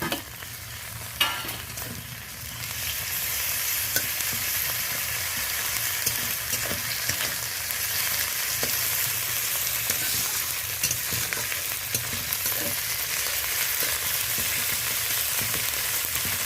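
Garlic, ginger and onion fry in hot oil for a sole fish kalia while being stirred, a continuous close sizzle broken by scraping and clinking from the spatula, with no voices.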